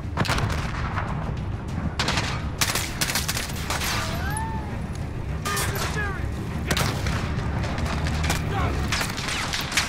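Dense gunfire fills a Modern Warfare campaign battle, with machine gun bursts and shots rattling almost nonstop under shouted soldier voices and whooshing effects.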